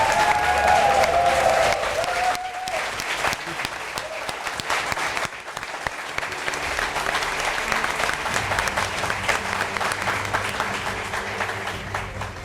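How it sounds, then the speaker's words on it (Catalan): A studio audience of about 100 people applauding at a special radio-show taping, steady loud clapping that carries through while a voice speaks briefly at the start. "un aplaudiment molt fort per vosaltres"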